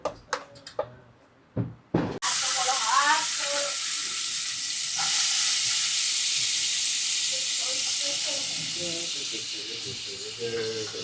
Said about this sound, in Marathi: मी जिरा टाकलाय, ॲड करून घेतलाय आणि राईसला असं मी मिक्स करते